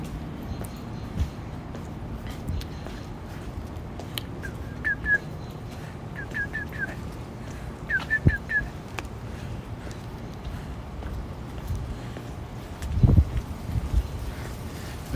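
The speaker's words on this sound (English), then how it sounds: "I hear the birds chirping." Faint birds chirp in short clustered bursts on a rainy Brooklyn street after midnight, distant over a steady wash of rain and wind noise, with a brief thump near the end.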